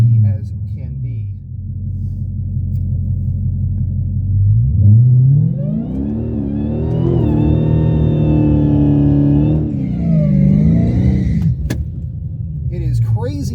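A Dodge Hellcat rumbles from inside the cabin on a muggy day, a deep steady idle that swells into a rising rev and holds strong before easing off, loud and close.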